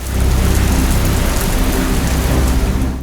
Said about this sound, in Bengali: মাঝে মাঝেই ঝরছে বৃষ্টি